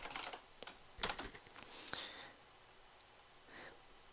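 Keystrokes on a computer keyboard while KML code is typed, a quiet run of close, irregular clicks bunched into short bursts with gaps between them.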